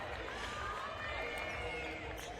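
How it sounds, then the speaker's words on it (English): Crowd cheering at a women's volleyball match between Queensland Pirates and NSW Phoenix, a steady, moderately distant roar of many voices throughout. "Holly Mallett getting cheers from the crowd all round"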